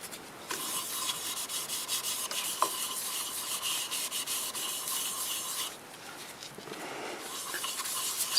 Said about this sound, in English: I'll put a coat of shellac-based sanding sealer on it so you can see what that looks like.